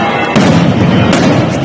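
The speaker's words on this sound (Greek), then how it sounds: "η νύχτα έγινε μέρα μετά το Χριστός Ανέστη με βροχή από πυροτεχνήματα και μολότοφ" Dense, continuous crackling and booming of many fireworks at a crowded midnight Easter Resurrection celebration outside a church in Greece, loud bursts piling over one another without pause.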